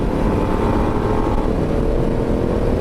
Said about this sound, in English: twist it quite hard just to get that little blip in revs